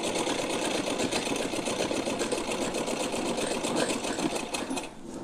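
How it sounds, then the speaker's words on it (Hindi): A sewing machine runs steadily, stitching golden piping trim onto a small doll outfit, its fast even whirring close and continuous before easing off near the end. "दोनों पर हम सिलाई लगा लेते हैं।"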